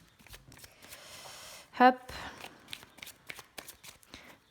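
Lenormand cards shuffled by hand in short crisp riffling bursts, one louder flurry in the middle, interspersed with brief speech.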